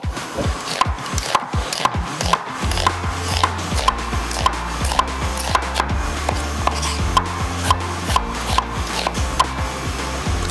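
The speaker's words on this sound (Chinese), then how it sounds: "我们先从切洋葱开始" A knife slicing an onion into thin strips on a wooden board, with rapid rhythmic chops, each a crisp tap, repeating close by and steady, with a low hum beneath from around the third second onward.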